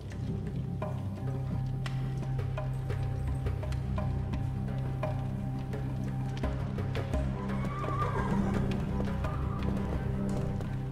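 Horses in the video game Secret Files 3 whinny and snort over a low steady ambient drone, with scattered hoof clops and a rising neigh near the end.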